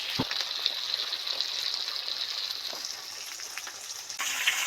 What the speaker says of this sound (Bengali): দেখুন বন্ধুরা পাঁচ মিনিট পরে চেঞ্জ উল্টে দিয়েছি কত সুন্দর ভাজা হয়েছে